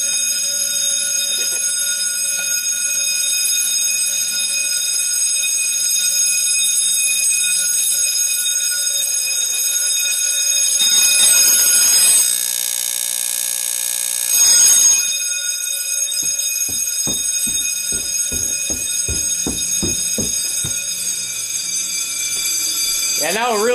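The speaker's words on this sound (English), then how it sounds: "but the school bell's going crazy." A fire alarm bell rings continuously during an Alertek 8005 fire alarm system test alongside other alarm tones, loud and sustained, with a burst of rapid striking near the end and people talking intermittently.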